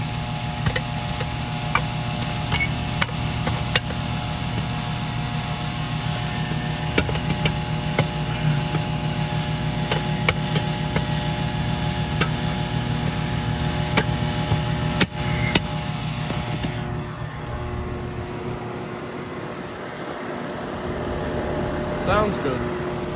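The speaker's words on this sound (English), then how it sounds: "Is that the compressor or the contactor that's being so loud?" A 2013 Carrier Comfort air conditioner runs loudly at first startup, with a steady compressor hum and an electrical buzz from the contactor, plus occasional ticks and clicks. It continues unbroken throughout and changes character near the end.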